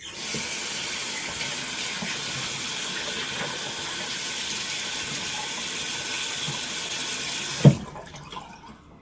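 Running water pours steadily from a tap to wet a head before shaving, a broad continuous hiss that cuts off abruptly near the end with a single knock.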